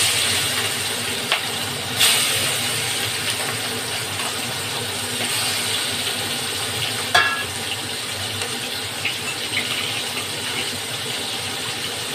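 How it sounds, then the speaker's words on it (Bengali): Shrimp frying in hot oil, a steady dense crackling sizzle that runs the whole time, with a few sharper pops and clinks along the way and no voices. "গরম হয়ে গেছে তেলটা। এবার আমি চিংড়ি মাছগুলোকে দিয়ে দেবো।"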